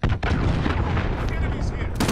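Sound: allied cruise missile strike in the video game Call of Duty: Modern Warfare

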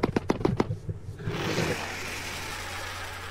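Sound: Kelenken friendly call with beak clicking, Path of Titans video game mod

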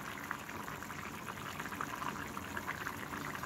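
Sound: pure cold-pressed mustard oil poured into pan

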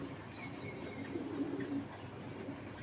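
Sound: pigeons cooing

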